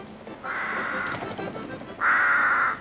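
Crows caw in two long, harsh calls, the first near and steady, the second louder and more strained after a short gap, over faint background noise.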